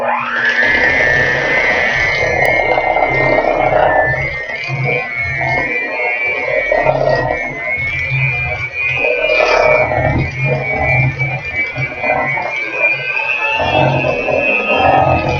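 A hand mixer whirs loudly and steadily for the whole stretch, mixing wet ingredients, its motor buzz wavering slightly as it works through the bowl.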